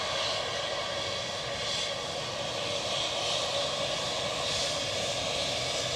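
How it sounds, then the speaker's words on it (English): A British Airways Embraer jet heading to London City gives a continuous, fairly loud engine roar with a broad hiss, holding steady throughout with no talk. "Off to London City with this Embraer"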